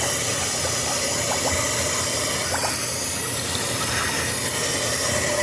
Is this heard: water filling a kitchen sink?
yes